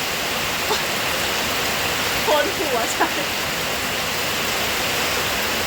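Heavy storm rain pours down steadily at night across flooded fields and gardens, a dense, constant roar that never lets up, with someone speaking briefly beneath it.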